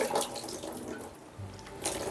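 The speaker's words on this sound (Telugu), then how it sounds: "గోరువెచ్చని నీళ్లు వేసుకోవాలి నేను కెటిల్లో వెయిట్ చేశానండి" Lukewarm water pours from a kettle in a soft, close splashing stream for about two seconds, fairly quiet.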